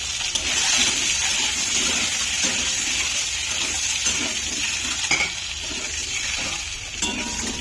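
Egg curry cooking in a pan gives a steady, close sizzling hiss with faint stirring and utensil clinks throughout, and no voices.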